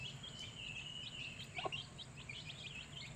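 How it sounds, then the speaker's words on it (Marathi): Chickens just let out into a Konkan yard in the rain, pecking at scattered rice, with a steady run of soft, high chirps over a low background rumble and one brief louder call midway. "आपण फायनली कोंबडे ना बाहेर सोडला बघा"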